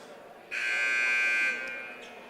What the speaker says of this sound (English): Buzzer sounds as both teams start to come out.